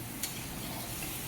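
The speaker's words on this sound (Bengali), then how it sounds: "এখন হচ্ছে লবণটা ভালো করে মিক্স করে নিতে হবে।" Potatoes fry in oil with salt just added, giving a brief, even sizzle with a faint stirring scrape and a single light tick.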